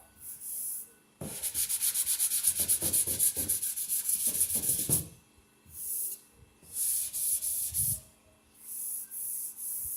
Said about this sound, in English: So I'm on like my 5th coat of primer and block sanding.